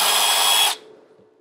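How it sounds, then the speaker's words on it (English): A power drill bores a hole through a plastic valve cover with built-in PCV, one loud, close, high whine that cuts off abruptly after under a second, leaving faint background hum. "we'll go ahead and drill a hole in that pathway to create a leak"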